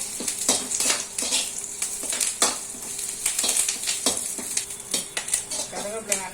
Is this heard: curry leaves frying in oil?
yes